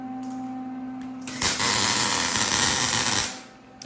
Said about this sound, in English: We are tacking in our lower swing arm